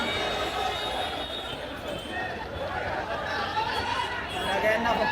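Dense crowd chatter fills the street outside a Ganpati idol workshop in Parel, Mumbai, during Ganeshotsav: a steady, loud wash of many overlapping voices that runs throughout.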